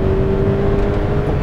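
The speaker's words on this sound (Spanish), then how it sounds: "Suena muy bien, pero tiene un retoque a inyección directa atmosférico que no termina de ser todo lo metálico y gustoso que a uno le gustaría" A Subaru BRZ's naturally aspirated direct-injection engine revs at a steady, slightly rough pitch, loud and close for a brief moment.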